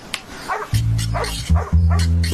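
A dog gives a few loud, close barks in quick succession, with no talking over them.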